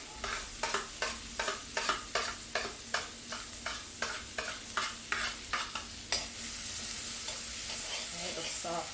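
Scallion, scotch bonnet pepper, thyme and onion sizzle in a pot while a spoon stirs them in a steady rhythm of about a dozen scrapes, then the frying settles into a continuous hiss.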